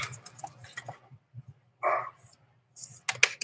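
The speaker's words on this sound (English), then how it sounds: "Oh, my dogs are playing." Dogs playing indoors, giving a few short barks and yelps at close range in scattered bursts between quiet gaps.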